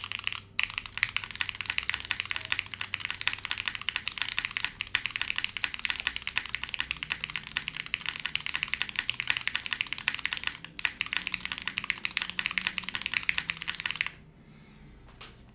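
Typing on a Neo70 mechanical keyboard with an O-ring mount: a close, continuous run of quick clacky keystrokes that stops abruptly near the end, with no talk.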